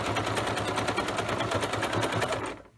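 Sewing machine running steadily as it re-stitches a seam on a fabric basket, a fast even needle chatter held close and loud for most of the clip before cutting off near the end.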